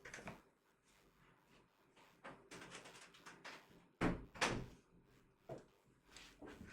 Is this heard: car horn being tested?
no